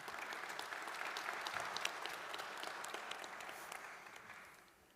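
Sustained applause from a conference audience welcoming panel speakers at a cybersecurity panel, steady clapping that fades away near the end.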